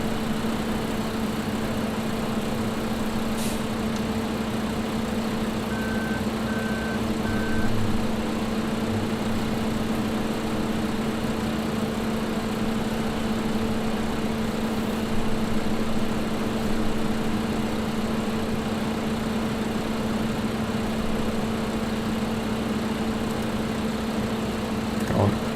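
A John Deere tractor engine in the Farming Simulator 2015 video game idles with a steady, continuous low hum and no change in pitch for the whole stretch.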